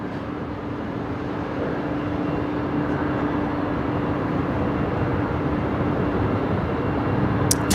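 A Qantas airliner, Qantas 635 bound for Perth, roars on the runway at Brisbane Airport as a steady broad rumble of jet noise that slowly builds in loudness, heard from a distance with no talk.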